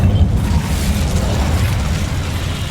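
The Incendio fire spell in the video game Hogwarts Legacy is cast as a steady, loud rushing burst with a deep rumbling roar that holds for a few seconds.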